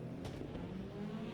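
IndyCar race cars roar along in Project Cars 2 on the Long Beach street circuit, a faint, steady engine drone, with a couple of brief whooshes as leading cars pass.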